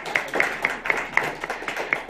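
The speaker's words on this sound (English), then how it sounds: "I would like to give a round of applause to our professionals" A small audience at a networking event claps for the professionals being honoured, a short, sparse round of about seven distinct handclaps with a steady rhythm, close and moderately loud.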